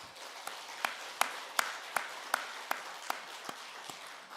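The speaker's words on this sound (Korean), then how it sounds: "우리 찬양대의 감사와 하나님께 영광의 박수 올려드리겠습니다." A church congregation applauds after a Lent choir performance: a soft bed of scattered clapping topped by sharp, rhythmic claps in unison at a steady beat, about three per second, moderately close.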